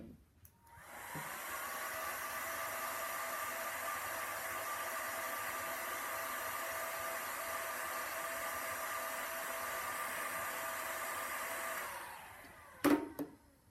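A heat gun blows hot air over shrink tubing on a shark fishing rubbing leader, a steady close whooshing roar running for about eleven seconds before cutting off, followed by a brief clunk.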